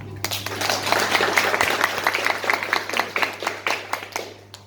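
Audience applause during an Indonesian seminar on digital literacy, a dense patter of claps that fades into scattered separate claps toward the end, heard close with a steady low hum underneath.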